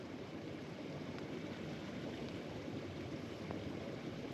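A river flows steadily through the night at a wild campsite at Hares Gap in the Mourne Mountains, giving an even, broad wash of running water that stays unbroken and fairly close, with no voices over it.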